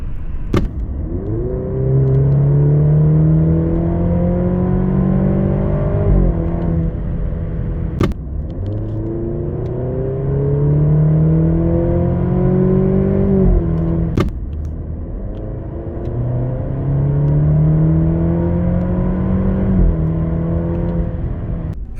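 A 2.0 turbo Maserati Grecale GT accelerates hard from inside the cabin, its engine note climbing in pitch through three long pulls, with a sharp upshift break between each. The engine is loud and steady, with no talking.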